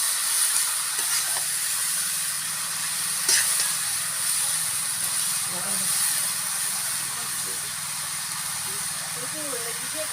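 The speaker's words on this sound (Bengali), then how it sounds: "এবার এগুলোকে একটু ভেজে নেব।" Black taro (kalo kochu) frying in a pan in a village-style kitchen, giving a steady close hiss and sizzle throughout with faint crackles and no break in the sound.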